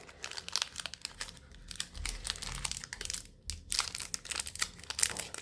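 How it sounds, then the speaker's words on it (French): Thin foil wrapping on a Pokémon XY booster pack is torn and crinkled open by hand. Close, rapid bursts of crackling and tearing run throughout in irregular spurts, with a short pause midway and no voice. "J'essaie de déchirer les boosters comme il faut parce qu'ils sont très très fins."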